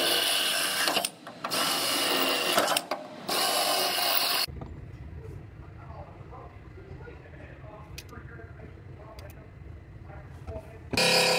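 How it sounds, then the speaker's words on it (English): Loud, steady whine of a power drill drilling out spot welds on a Toyota's metal body in several bursts, separated by pauses and quieter workshop clatter. "I'm gonna drill out these four spot welds"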